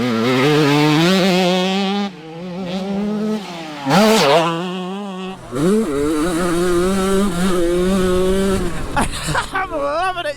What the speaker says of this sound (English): these are generally my first laps on a Suzuki RM85 in my entire life